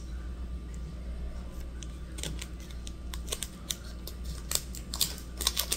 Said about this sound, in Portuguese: Prender a parte de trás aqui com durex.